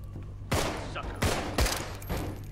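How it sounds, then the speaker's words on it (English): Gunfire from the video game Contagion: about four loud, close shots with deep booming tails, spaced unevenly over a couple of seconds, with no talking. "I just shot you in the back of the head."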